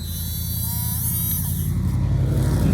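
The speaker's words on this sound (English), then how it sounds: "Cordless new Dremel" A new cordless Dremel rotary tool runs steadily, a continuous close buzzing whine with an even level and no pauses, heard alone with no voices over it.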